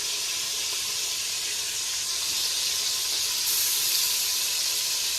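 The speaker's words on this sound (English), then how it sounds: "Hopefully you lot can hear me above the sizzling." Steady, loud sizzling from oxtail frying in a hot pan, a continuous crackling hiss with no voices.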